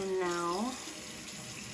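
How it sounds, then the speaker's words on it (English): Tap water runs in a gentle stream into a small dish holding mud face-mask powder, a soft, steady splashing trickle heard close-up beneath a brief spoken phrase. "I'm going to just put a little bit of water in there."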